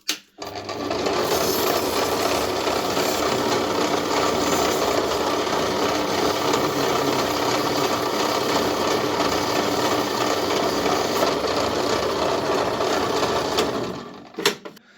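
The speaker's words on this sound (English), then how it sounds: "I'm just going to give it a go over with some sandpaper" Sandpaper works over the screw head of an antique pocket pistol, giving a continuous close-up rasping hiss that holds steady for about fourteen seconds before stopping abruptly, with no talking.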